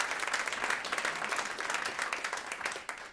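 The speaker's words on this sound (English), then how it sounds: "A nice round of applause to yourselves tonight for making this work." Audience at a live poetry event giving a round of applause, steady dense clapping from many hands that stays even throughout, heard from a moderate distance.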